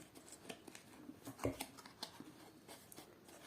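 Crinkly rustling and tearing of a thin cellophane bag as an electric mini bicycle pump, a CYCLAMI A2s, is unpacked, with a sharper rip in the middle among quieter handling rustles.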